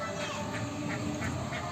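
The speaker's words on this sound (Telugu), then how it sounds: "డక్స్." Ducks quacking in an animal enclosure at a resort, a series of short repeated calls at a steady rhythm over a constant background hiss.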